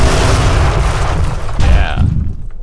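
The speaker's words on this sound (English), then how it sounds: "when you jump, you can now use any of your three major attack buttons to slam down to the ground with some sort of attack" A giant monster in the video game Colossal Kaiju Combat jumps and slams into the ground, making a loud, heavy booming impact with a rumbling crash that carries on, then a sudden drop-off and a brief whooshing tail at the end.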